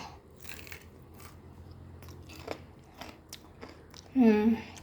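Chana dal dish being tasted, soft crunchy chewing and biting close to the mic over faint background noise, ending in a short louder burst.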